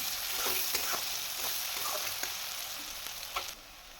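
Chopped onion frying in a pan with nigella seeds, browning in a continuous bright sizzle broken by light scraping clicks of stirring, close and moderately loud, then easing at the end.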